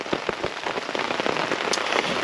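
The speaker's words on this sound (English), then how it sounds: "The rain is still coming down." Rain falling on a campsite tarp in a wilderness area during a storm, a dense close patter of drops tapping the fabric continuously, with no voices.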